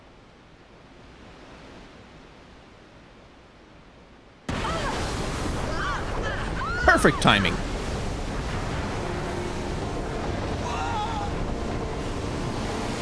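Ocean waves wash steadily in a Final Fantasy X cutscene, a broad continuous surf that swells in after a quiet start, with a voice speaking briefly over it.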